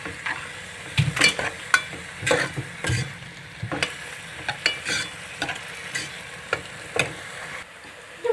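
Onions frying in half a cup of oil in a deep pot for a mixed vegetable potato, pea and carrot curry, with steady soft sizzling broken by repeated spoon stirs and scrapes, close up and no talking.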